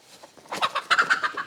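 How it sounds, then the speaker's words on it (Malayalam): A broody mother hen clucking nearby, a quick run of soft, steady clucks that grows slightly louder, with no talk. "ഇതേ തള്ളക്കോഴി ഇറങ്ങി നടക്കുകയാണ്"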